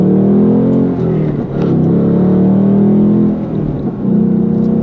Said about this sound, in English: So there's that great sounding exhaust.